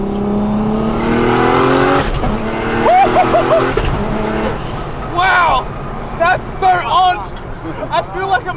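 An 800hp Nissan R34 GTR race car with an HKS RB28 engine and sequential gearbox accelerates hard on a street, its loud engine climbing through rising revs with sharp gear changes as people talk inside the car.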